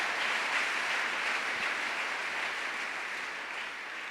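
A church congregation applauds, a dense, sustained roar of many hands clapping that fills the room evenly and tapers slightly toward the end.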